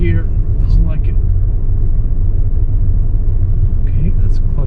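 A car crawling in a high gear with no throttle strains along, its engine a deep continuous rumble starting to shake, loud and near, while someone speaks briefly over it.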